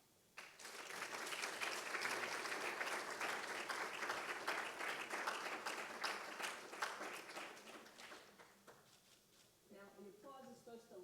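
An audience claps steadily for about nine seconds at a political reform working session. The applause is moderately loud and dense, then fades before a brief clatter at the end.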